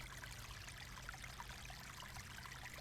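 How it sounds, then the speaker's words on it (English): Water runs into a sink in a zombie survival video game, a quiet, even stream of splashing and trickling that holds steady throughout. "what we can do is fill the sink"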